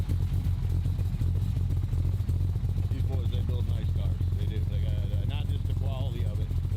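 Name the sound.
1966 Chevrolet Impala SS 427 big block engine running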